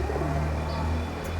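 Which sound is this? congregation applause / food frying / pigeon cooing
pigeon cooing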